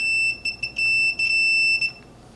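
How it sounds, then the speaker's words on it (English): A multimeter in continuity mode beeps, a high, steady electronic tone in several short bursts, then a longer continuous tone, close and clear over a faint background hum, while testing wiring on a BMW E30. "in continuity mode on my multimeter, it just makes a sound if the connection is complete"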